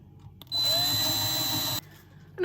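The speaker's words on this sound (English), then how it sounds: "And then drill yourself a hole." An electric drill bores a hole for a homemade Halloween decoration, a single loud, steady whine lasting just over a second, with a clunk before and after.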